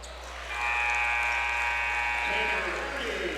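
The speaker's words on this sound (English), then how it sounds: "Tanner Ernie gets the final shot there before the buzzer" A high school basketball game between Jasper and Mount Vernon ends its quarter with a steady electronic buzzer lasting nearly two seconds, heard under a commentator's voice and gym noise.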